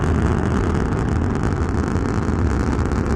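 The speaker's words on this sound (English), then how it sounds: "now those engines that just cut off, you can still hear the sound because you're 3 or 4 miles away from this thing" The deep, continuous rumble of rocket booster engines landing roars from several miles away, a dense low roar with wind buffeting the microphone.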